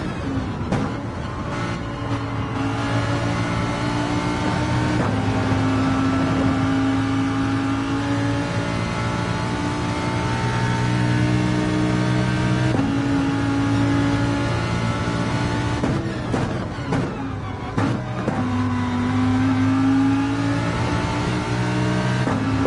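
Race car engines in a racing video game roar continuously, rising in pitch as they accelerate and dropping sharply at each gear shift, loud and close, with no voices.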